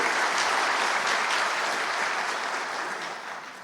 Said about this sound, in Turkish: Yürekten tebrik ediyorum, alkışlıyorum